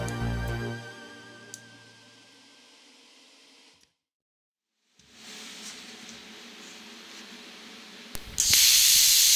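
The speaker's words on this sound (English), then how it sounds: "Here I am testing the pilot arc ignition system." A Stamos S-plasma 85CNC plasma cutter torch releases a steady hiss of air during pilot arc ignition testing. The hiss drops out into silence partway through, returns, and ends in a sharp, louder burst at close range.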